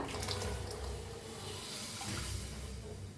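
A glass of milk pours into simmering, sugared masala tea in a pot, making a continuous close splashing rush that lasts the whole moment.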